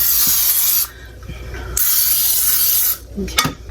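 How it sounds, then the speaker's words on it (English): Cooking spray sprayed into small glass bowls: two long hissing bursts, each about a second, with a short third burst and light clinks of glass between them. "I use these little glass bowls, and I'm just spraying them."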